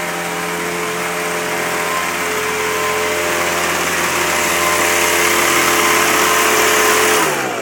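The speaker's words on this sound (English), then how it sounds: "So this is the Supercut trim machine provided by Hortec and has been operated by Carl O'Neill" A Hortec Supercut trimming machine runs while cropping Lavender Regal Splendor plants, giving a steady, close motor hum with a high whirring layer that builds slightly before winding down at the end.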